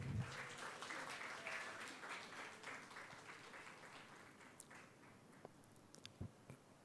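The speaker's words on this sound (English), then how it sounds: "Please give a round of applause." Audience applause at a university thesis competition, sustained clapping from a crowd in a hall that gradually thins out, with a few last scattered claps at the end.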